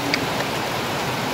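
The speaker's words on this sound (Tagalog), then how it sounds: "Grabe po ang ulan. Ang lakas. Super lakas ng ulan mga kababayan." Heavy tropical downpour: a dense, steady, loud hiss of rain with no breaks and no voices.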